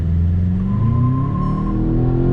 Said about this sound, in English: we're at a dead stop. I'm gonna go ahead and do an acceleration.